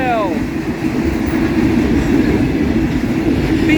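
Conrail freight train cars rolling past at close range, a steady loud rumble with wheel noise and a brief squeal at the start, with a voice calling out over it.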